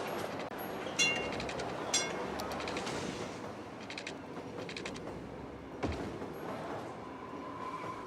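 A train at a station in the city-building game Cities: Skylines, heard as a steady rumbling rail ambience with occasional metallic clicks and clanks over about eight seconds.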